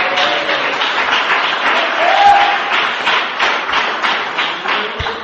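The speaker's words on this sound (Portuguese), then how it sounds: "Palmas para Jesus, irmão." Church congregation applauding during a sermon, a steady wash of many hands clapping at a fairly even loudness throughout, with a faint voice briefly in the background.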